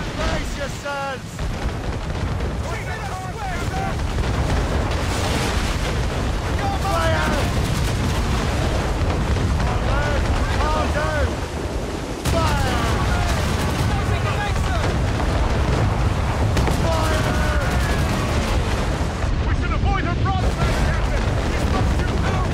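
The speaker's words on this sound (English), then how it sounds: "She's firing mortars, Captain!" Ship combat in Assassin's Creed Rogue, with mortar and cannon fire booming almost continuously at high volume and dense, overlapping blasts throughout. Game voices shout over the barrage.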